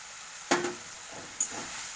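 Fried potatoes and figs dropped into a pan for a curry, a faint background sizzle broken by a few sharp clinks and scrapes of stirring, quiet and close with no voices.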